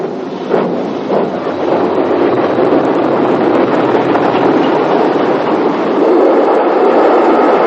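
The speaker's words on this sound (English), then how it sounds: "Note the centenary coach near the front of the train as another express, again Castle Hall, runs in." An express train hauled by the steam locomotive Castle Hall runs in, a dense, loud rolling roar of wheels and carriages with wind buffeting the microphone throughout.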